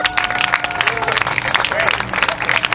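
An audience at a live jazz and spoken-word event at the Black Madonna Shrine in Detroit applauds a speaker: a loud, dense burst of crowd clapping runs throughout, with a faint sustained tone and some brief voices mixed in beneath.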